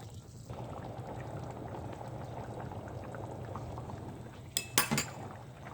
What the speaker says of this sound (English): What you're looking for is for your rice to be kind of jumping with these little bubbles